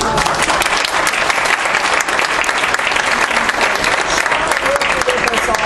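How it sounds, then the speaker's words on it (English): Sustained audience applause at a 2015 education conference, steady dense clapping from a large crowd filling the room without a break, loud and close throughout. "let's give Cheryl a round of applause"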